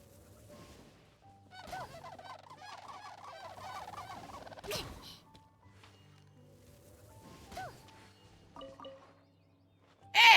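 Ducks in the video game Genshin Impact quack and honk in a run of nasal calls, one longer warbling burst followed by a few shorter squawks, fairly close and with no one talking over them.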